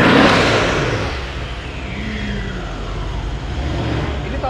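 A turbocharged 2012 car with a replaced exhaust revs hard, a loud broad roar at the start that eases into a steady engine drone with a rising pitch sweep, no talk over it.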